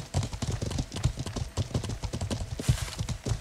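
Horse hooves clip-clopping in the medieval game Life is Feudal, a steady, close rhythmic patter of hoofbeats that runs the whole time, with a brief whinny-like sound and no speech.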